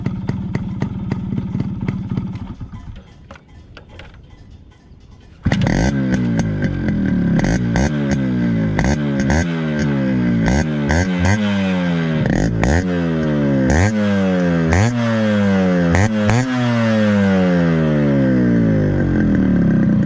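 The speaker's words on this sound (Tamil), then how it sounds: "2 ஸ்ட்ரோக்கில் உண்டான சவுண்டே வந்து தனி டிஃப்ரெண்ட்டான ஒரு சவுண்டுங்க" A Yamaha RX100 restored to showroom condition kicks into life and its two-stroke engine runs close by. The exhaust note crackles and sputters with repeated rising revs, following quieter clatter at the start.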